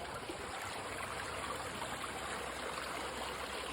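A small stream trickles beneath a little bridge on a nature hike, a soft, continuous watery babble at low, steady level with no voices.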